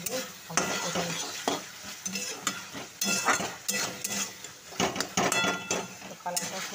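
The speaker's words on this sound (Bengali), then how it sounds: "এই সমস্ত মশলা দিয়ে আলুটা কষিয়ে" Potatoes cooked down with a paste of ginger, garlic and cumin, plus turmeric, salt and chilli powder, in a pan, heard as dense, close sizzling with repeated scraping and clattering strokes of a spoon, some faint talk underneath.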